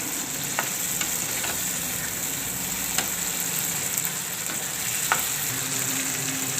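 Boiled potatoes frying in a pan for poha, a steady close sizzle throughout with occasional soft scrapes and taps of a spoon stirring.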